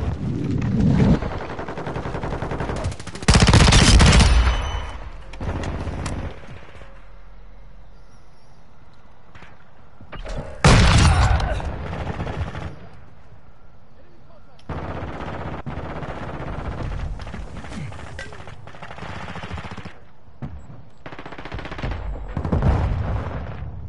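Call of Duty hardpoint match on PS4 with loud, dense bursts of automatic gunfire and blasts in several heavy waves, separated by quieter stretches of scattered shots and game noise.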